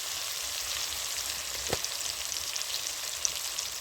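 Tomato and ginger fry with spices in a pan while cooking vegetarian ghugni, a steady broadband sizzle with one brief clatter of stirring near the middle and no voices.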